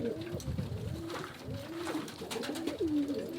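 Pigeons coo close by in soft, repeated throaty calls, overlapping and continuous over a low background murmur.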